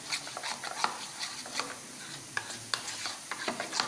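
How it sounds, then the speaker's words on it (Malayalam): A spoon stirs a cornflour mixture in a bowl, scraping and clinking against the sides in quick, uneven strokes, close and fairly clear with no talking. "നന്നായിട്ട് മിക്സ് ചെയ്യണം, അല്ലെങ്കിൽ കോൺഫ്ലവർ കട്ടപ്പിടിച്ചിരിക്കും."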